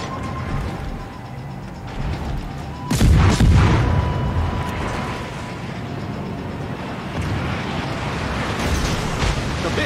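Torpedo explosions in a naval warfare game as a destroyer is blown up, with a heavy booming blast and rumble over continuous engine and water noise.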